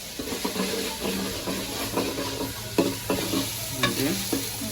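Layer chicken meat sizzles as it is sautéed in oil in a pot, with steady frying hiss and repeated scraping stirs of a spoon against the pot, moderately close.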